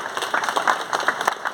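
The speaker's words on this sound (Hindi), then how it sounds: "जोरदार तालियों से स्वागत करें हमारे कैप्टन अमित जैन सर का।" Applause from an audience welcoming a retired captain, the institute's registrar, at an Independence Day celebration at IIT Kharagpur; moderately loud, steady clapping throughout with no voices.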